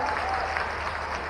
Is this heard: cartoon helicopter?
no